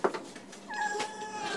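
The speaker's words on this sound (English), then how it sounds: "you can't play with the cats that sound like they're being tortured" Cats in a cat video game meow in drawn-out, strained, wailing tones, with a couple of overlapping cries, close and clear.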